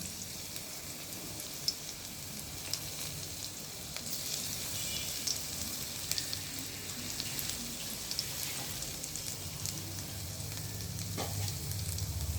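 Chopped, crushed garlic fries in a hot pan with a steady, dense sizzle and crackle that holds evenly throughout, fairly close and with no talking.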